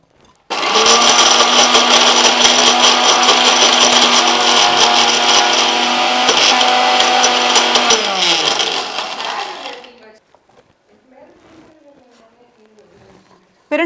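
A mixer grinder whirs loudly and steadily for about nine seconds, grinding pirandai chutney with salt, then cuts off and leaves a quiet kitchen with faint clinks and a voice.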